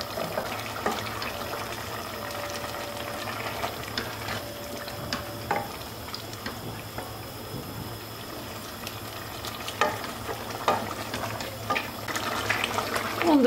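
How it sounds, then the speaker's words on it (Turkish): Red pepper pickle mixture bubbles in a pot on the stove, a soft, steady simmer with faint pops and clicks, quiet and close, with no talking. "10 dakika kaynadıktan sonra kısık ateşte hemen kavanozlara dolduracağım."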